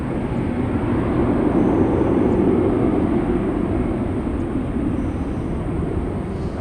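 A jet airliner takes off at Orlando International Airport on a foggy morning, a loud, steady engine roar that holds throughout.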